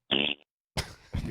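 A short, buzzy fart blurts out near the mic, a single brassy burst lasting a fraction of a second, followed by a brief pause and then someone speaking.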